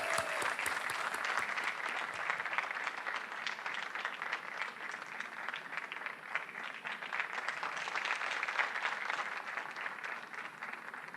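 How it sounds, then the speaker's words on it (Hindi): Studio audience on the Hindi quiz show Kaun Banega Crorepati season 13 claps steadily and loudly for about eleven seconds, a dense, even wash of applause with no break. "ताली बज जाए इनके लिए"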